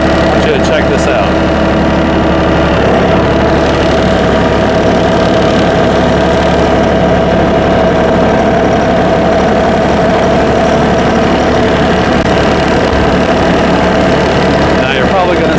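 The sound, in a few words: New Holland Workmaster tractor engine running near 1500 RPM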